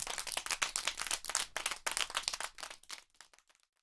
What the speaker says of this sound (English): That was the most interesting clapping sound effect I've ever heard